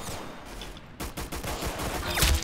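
Gunfire in the video game Roblox Arsenal, a quick run of loud, rapid shots after a short lull, continuing in a dense volley to the end.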